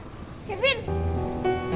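Steady rain hissing down outdoors in an Indonesian TV drama scene, a continuous broadband wash beneath people talking.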